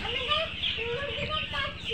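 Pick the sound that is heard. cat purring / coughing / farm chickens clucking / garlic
farm chickens clucking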